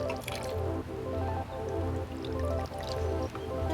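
Vanilla vodka poured into a drink, a steady close liquid stream with soft gurgling and dripping over about four seconds, no talk.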